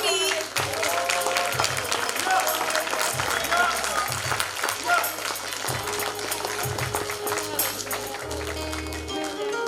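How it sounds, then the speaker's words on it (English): Audience applause at a school annual function for a child called to the stage, a continuous clapping wash beneath a steady thumping music beat, with a voice speaking over it. "Clap for the kid, please"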